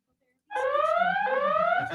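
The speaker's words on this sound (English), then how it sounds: "And Lonzo has made an alarm." A homemade alarm sound effect for a live show sounds right after a brief silence, a loud sustained two-tone wail with a slight pitch shift midway and a steady low hum beneath.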